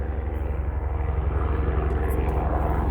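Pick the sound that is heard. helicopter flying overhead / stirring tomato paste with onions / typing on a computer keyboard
helicopter flying overhead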